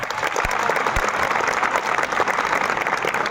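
Steady, dense applause from an audience at a school Republic Day program, many hands clapping continuously throughout without a break.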